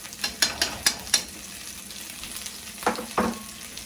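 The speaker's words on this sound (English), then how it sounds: "with a spatula, I'm going to break it down, because what we want to do is the chunky paste, we want to blend it in with the oil." Thai red curry paste sizzles in hot oil in a pan, with a handful of sharp spatula scrapes and stirs in two bursts over a soft steady fry.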